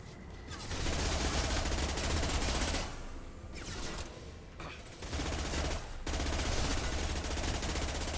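Sustained automatic gunfire in Mass Effect 2 combat, loud continuous bursts with brief pauses around the middle, no talking.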